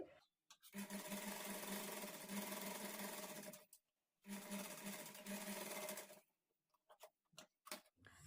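A sewing machine stitches invisible thread piping in two long steady runs separated by a short pause, a rapid even mechanical whir up close, followed by a few brief stop-start bursts.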